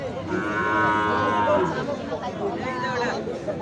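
A bhutti breed cow at a busy village cattle market lets out a long, loud moo up close, followed by a second lowing call, with crowd chatter and voices all around.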